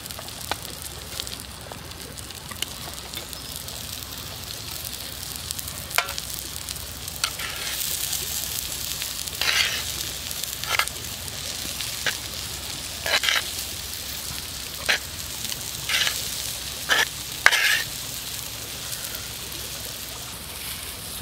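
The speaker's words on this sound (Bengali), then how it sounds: "তো তারপর আমরা আলুটা দিয়ে দিচ্ছি।" Potatoes fry in hot oil with onion and chili, a steady soft sizzle broken by repeated sharp scraping clicks of stirring, fairly close and moderately quiet.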